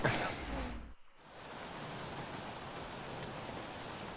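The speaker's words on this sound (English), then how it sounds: "what are you kind of thinking of when the kind of rain's going to die down" Rain during a race in a racing video game, a continuous soft hiss of falling drops, briefly cut off near the start before settling back to an even, moderate wash.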